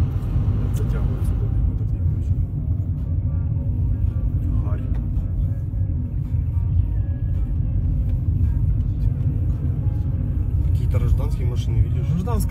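A car drives along a road toward a fork in a war zone, with a steady low engine and road rumble heard from inside the vehicle throughout and people talking over it.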